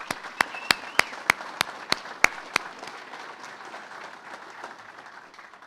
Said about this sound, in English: I wanted to make sure we gave them a round of applause